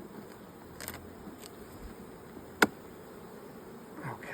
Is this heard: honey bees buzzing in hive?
yes